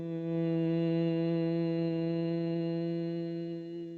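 A person hums on a long, smooth breath to imitate a bee flying past, a steady buzzing drone that swells slightly and then fades, with no talking.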